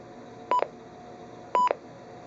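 Two short electronic beep pairs about a second apart from a Midland WR-300 weather radio alert test, clear tones over a quiet hiss.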